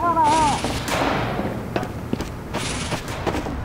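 Sentry gun in Team Fortress 2, aimed by hand with the Wrangler, fires sharp rapid bursts over a busy match with voices talking in the background.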